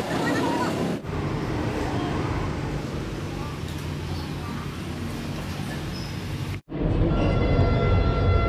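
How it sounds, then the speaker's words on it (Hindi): Vande Bharat express train pulling into a station platform, a loud steady rumble of wheels and carriage noise filling the whole stretch, briefly broken near the end, with crowd babble mixed in. "हम अभी स्टेशन पे और हमारी अब ट्रेन आ रही है। ट्रेन हमारी है वंदे भारत"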